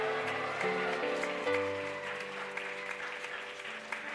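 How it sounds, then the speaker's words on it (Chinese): A church congregation claps to welcome a family joining at a Sunday service, steady moderate applause throughout, with sustained organ-like tones underneath. "来拍手欢迎他们来。"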